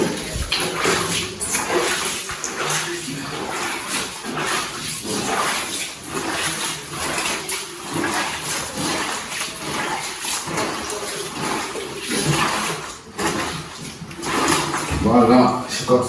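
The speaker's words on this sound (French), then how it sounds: "Ajoute l'eau" Water pours steadily into wood sawdust being mixed as substrate for growing oyster mushrooms, a continuous close splashing and rushing with small pulses and shuffling, with voices speaking now and then.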